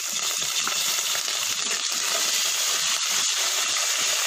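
Green chilies, dried chilies and curry leaves fry in hot oil in a pan for coconut rice, a steady close-up sizzle with crackles and pops and no speech.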